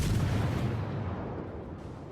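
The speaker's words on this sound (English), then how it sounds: "Shooting at the Kolberg here at near max range, you can see just how hard it is to hit anything with these guns" Naval guns fire in the World of Warships video game, a deep booming report that rolls and fades over about two seconds, with no talk.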